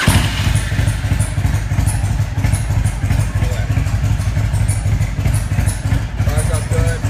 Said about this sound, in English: Now let's fire this thing up. I want to show you guys how good this thing fires up for a carbureted bike.